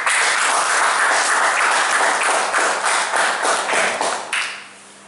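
Audience at a Toastmasters meeting claps loudly and continuously, dense applause that tapers off over the last second into quiet.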